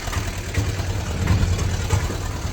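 An auto rickshaw idles at a steady, continuous rumble nearby in a Pahalgam street, its engine note low and droning with faint background noise and no clear voices.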